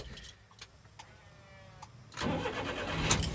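A Suzuki Carry DA63T mini truck, a little low on fuel, cranks with a few faint clicks before its small engine catches and settles into a steady, fairly close idle.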